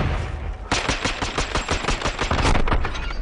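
Sniper rifle shots fired at close range in Modern Warfare 2, a rapid run of loud, sharp gunfire bursts that starts abruptly and keeps going without a break.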